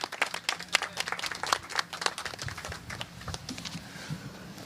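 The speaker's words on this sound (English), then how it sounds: "Can we give him a round of applause?" A small outdoor crowd gives scattered applause in cold weather as George Preston is welcomed to the stage. The claps are fairly faint and uneven, with distinct individual hand slaps that thin out toward the end.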